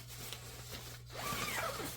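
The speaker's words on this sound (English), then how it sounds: "A nice smooth zipper" A zipper closes the fabric bag of a portable clothes dryer in one smooth, close zip lasting about a second, following a quiet stretch with a low steady hum.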